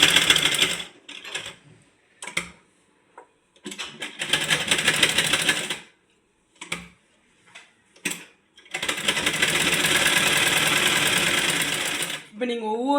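An electric sewing machine stitches a size-32 blouse in several bursts of rapid, even mechanical whirring, short runs and two longer ones, separated by quiet pauses and brief handling noises.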